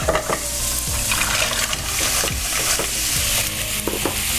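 Mussels hit a hot pan with bacon, onions and garlic, giving a loud, close sizzle with clattering shells and stirring scrapes throughout.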